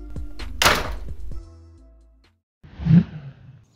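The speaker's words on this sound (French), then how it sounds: "sort non sans claquer la porte avec force" A door slams shut hard, a loud thud with a short rattle, followed by quiet and then a second muffled knock-like thump; no talking.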